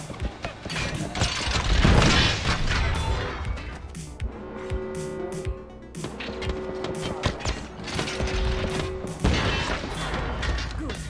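Enemy gunfire in Apex Legends, a dense and chaotic mix of shots, impacts and crashes with sustained tones and sharp transients, loud throughout.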